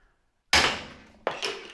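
A hammer strikes the top of a removed Land Rover Discovery 4 oil level sensor twice, two sharp close metallic smacks with short ringing decays, no voices.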